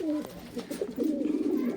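Madrasi Giribaz pigeons, a white-speckled female and a male, give short low rolling coos close up, one brief phrase followed by a longer one.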